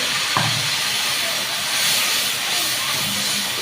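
Hilsa fish sautés in a pan with a steady, loud sizzling hiss throughout, a couple of faint clinks of a utensil breaking through near the start and end.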